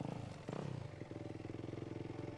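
A motorcycle ridden in the Dakar 2013 rally runs with a rapid, pulsing engine putter and some clatter, steady and moderately near, with a brief louder swell early on.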